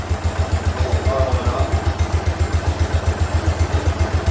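A 1969 Cub Cadet 105 tractor engine idles steadily, its low, even chugging pulses repeating in a close, regular rhythm with no talk over it.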